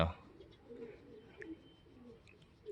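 Released racing pigeons give soft, faint coos in a few short bursts over quiet outdoor background, with no one talking.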